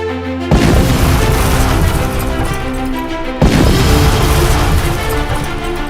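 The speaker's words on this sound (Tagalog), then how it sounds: "a pyrotechnic bomb exploded and escalated into continuous intense explosion" A loud, sustained roar of pyrotechnic blasts and crackling bursts from an exploding fireworks factory fills the clip, with a sharp new surge of explosions partway through.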